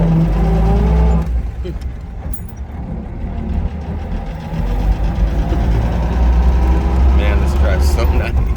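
A 1937 Chevrolet Sport Coupe engine drones steadily while the car drives, a low continuous rumble that swells louder toward the end, with people talking over it.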